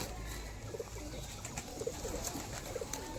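Madras and Giribaz pigeons cooing in a loft, soft repeated low coos in short bursts over a steady background hum, fairly faint and without speech.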